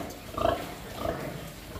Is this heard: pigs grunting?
yes